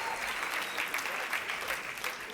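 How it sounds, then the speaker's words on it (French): An audience claps in a steady, moderately distant patter of applause, fairly soft throughout the short stretch. "on peut applaudir"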